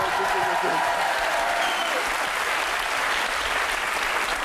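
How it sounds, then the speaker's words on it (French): Studio audience applauding for Séverine on a French game show, a dense steady patter of clapping that holds throughout, with a few voices faintly mixed in. "On peut applaudir Séverine quand même"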